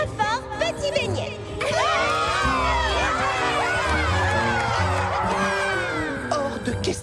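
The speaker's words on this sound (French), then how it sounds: "Je vous demande d'applaudir bien fort Petit Beignet." A loud crowd of cartoon children cheers, shouts and screams excitedly in a continuous burst, with voices layered over the din.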